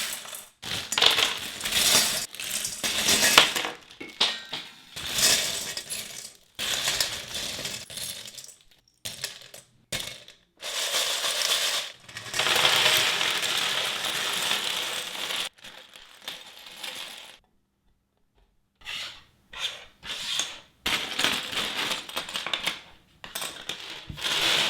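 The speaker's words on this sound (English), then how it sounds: "I thought it would be fun to empty out all the pieces into this bowl and mix them around before starting." Loose LEGO pieces pour and rattle into a bowl and are stirred by hand, a dense plastic clatter in repeated bursts separated by short pauses, close and fairly loud with no talking.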